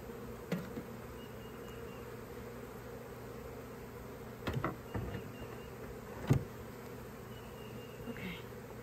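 Honeybees hum and buzz around an open beehive as a steady low drone. A few sharper rustles and knocks from the hive work rise briefly above it, and no one speaks.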